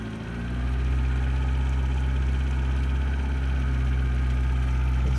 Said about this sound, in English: Runs. Nobody on this little lake, so I can rip around a little bit.